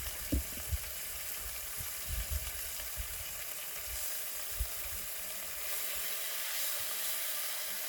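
Pork frying in a pan on a camp stove during van life at a state park, a steady close sizzle and hiss with occasional soft knocks and stirring bumps.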